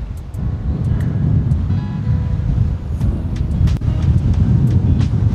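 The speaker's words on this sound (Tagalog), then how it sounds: "Ang hangin. Ang lakas ng hangin." Strong wind at Tamsui Fisherman's Wharf in Taipei buffets the microphone in a constant low roar, with faint surf or water noise behind it and no one speaking.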